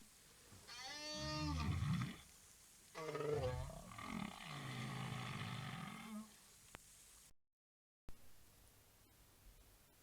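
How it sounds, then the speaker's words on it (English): A bowhead whale gives a long underwater call made of rising and falling moans and groans that turn into a rough, roaring stretch. It sounds loud and full, then breaks off into near silence and faint hiss. "This sound was made by a whale, and it was made by the elusive bowhead whale."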